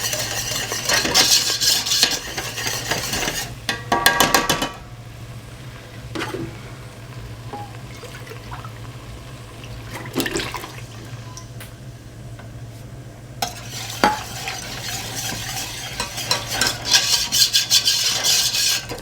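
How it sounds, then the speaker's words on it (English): Milk worked into a butter and flour roux for a broccoli and cauliflower cheese sauce, heard as brisk metal whisk or spoon scraping on a pan in two loud bursts with a quieter gap between them. "I'm putting one lot of milk in first, just to incorporate that butter and flour, which is basically a roux"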